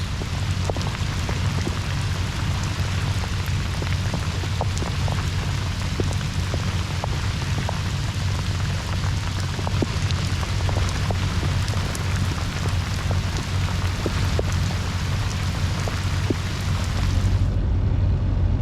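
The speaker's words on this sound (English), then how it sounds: "The rain intensifies." Heavy rain beats down on a traditional sailing boat on the Oosterschelde, a loud, unbroken hiss dense with pattering drops that carries on steadily throughout, with no voices.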